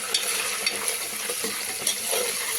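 Fenugreek leaves dropped into hot oil for a mutton curry, a soft crackling sizzle with light stirring and scraping clicks, fairly quiet and close.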